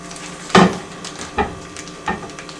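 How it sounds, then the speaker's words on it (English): A pot of beef stew being stirred, three scraping, knocking strokes of a utensil against the pot spaced about a second apart, close and moderately loud with no talking. "And stir it."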